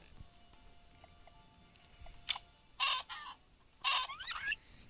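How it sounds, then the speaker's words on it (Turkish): A few short, bright clucks from a chicken in a Minecraft survival game come in quick bursts over a quiet background with faint tones and clicks. "Aa tavuk."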